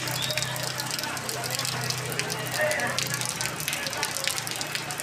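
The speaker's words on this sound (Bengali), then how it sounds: "প্রচন্ড বৃষ্টি" Heavy rain pours steadily in Malancha Patti, where streets and shops are flooded, making a dense, continuous wash of water noise with a low hum underneath throughout.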